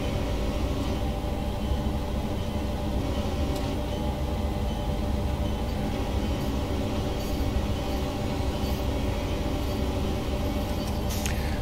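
EMD F7 diesel locomotives in Train Sim World run with a continuous heavy diesel drone and rolling rail noise. The sound is steady and loud, with faint metallic clanks throughout.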